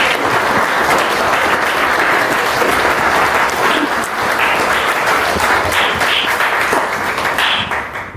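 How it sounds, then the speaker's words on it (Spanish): A church congregation gives loud, sustained applause to the Lord, a dense and continuous roar of clapping that holds steady before easing slightly near the end. "Dale un fuerte aplauso al Señor,"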